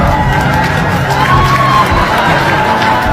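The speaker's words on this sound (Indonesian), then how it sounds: "Aplaus dulu." Indonesian audience at an Islamic study program cheering and clapping for a preacher, a loud, dense crowd roar that holds steady throughout.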